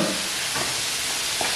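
Chicken fries in a pot with a steady loud sizzle and hiss while it is stirred, with faint scraping touches and no voices.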